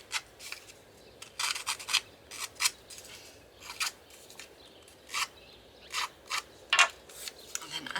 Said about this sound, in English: just distressing the edges of some of these embellishments